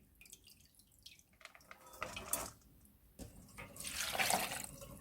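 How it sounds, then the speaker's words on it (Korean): Soaked glass noodles draining, with soft splashes and dripping water rising in brief bursts, quiet and close in a kitchen. "이제 30분이나 1시간 동안 불린 당면은 물기를 빼주세요."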